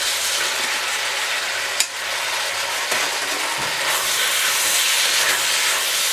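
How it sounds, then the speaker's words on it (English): Green onions hit a hot, thickening sauce for chicken with ginger and scallions, giving a loud, steady steamy hiss with a sharp tap near the start and the sizzle swelling slightly toward the end. "So now we're going to toss in our green onions."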